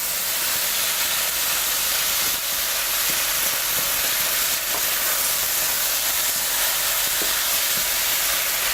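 Swordfish pieces sizzle in a hot pan, a dense steady hiss that stays loud and even throughout, with a few faint clicks and no voices.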